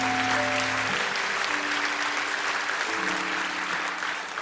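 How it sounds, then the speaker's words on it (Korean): Church congregation applauding its elders, a dense, steady wash of clapping that fills the whole stretch, with a few sustained tones from an organ or keyboard running underneath at the start. "우리 장로님들 모두를 이 시간 한번 큰 박수로 축복해 주시기 바랍니다"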